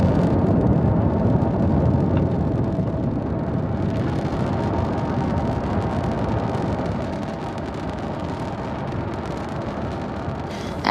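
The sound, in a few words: SpaceX Falcon 9 rocket launch ascending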